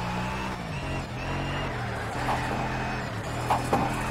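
An Audi RS4 wagon mod in Shift 2 Unleashed drives with a steady, low engine drone whose pitch rises and falls with gear changes, heard close and moderately loud with no talking over it.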